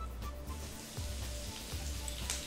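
Asafoetida, cumin and green chillies sizzling in hot oil for dal, a steady, close crackle and hiss with small pops throughout.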